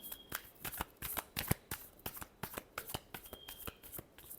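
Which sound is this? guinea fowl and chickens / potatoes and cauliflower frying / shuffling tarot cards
shuffling tarot cards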